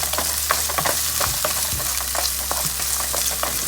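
Fried rice with veggies stirred in a hot pan on a home hibachi setup, a steady sizzle with repeated scraping and clinking of the spatula against the pan, close and continuous.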